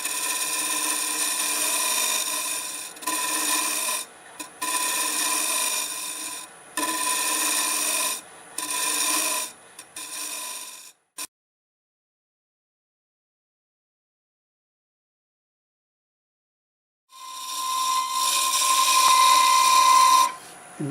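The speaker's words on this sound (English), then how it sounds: "Use a negative rag scraper to clean that up." A negative rake scraper cleaning up end grain on a twisted tangent-stave piece on a wood lathe, making loud rasping, scraping bursts with a whining tone, several passes separated by pauses and a long silence before a final pass.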